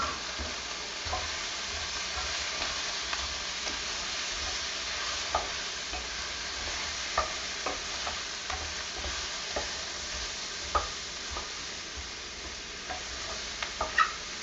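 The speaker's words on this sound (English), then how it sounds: "We're just going to scrape up the good brown stuff on the bottom." A utensil stirs and scrapes the browned bits from the bottom of a crowded pot of chicken. Repeated clicks and scrapes sit over a steady, moderate frying sizzle.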